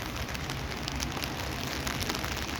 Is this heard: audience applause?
no